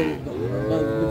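A Sahiwal cow moos once, a low drawn-out call lasting about a second, close and loud, at a cattle market.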